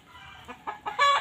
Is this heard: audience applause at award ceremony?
no